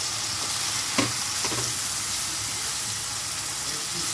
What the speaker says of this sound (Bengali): সবজিটা দিয়ে আমি একটু আগে ভালো করে নাড়াচাড়া করে নেব।